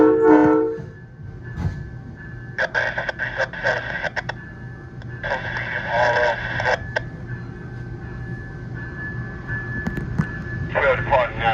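A VRE commuter train, number 312 from Spotsylvania to Washington DC, sounds its loud horn in three sustained blasts, the last one cut short. Cab rumble runs underneath, and a radio voice is heard at the start.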